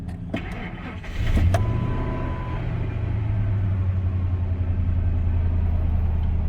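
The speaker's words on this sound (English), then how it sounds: "the motor didn't sound bad there when I first started it" A car engine cranks and catches, then settles into a steady, low rumbling idle that continues without a break.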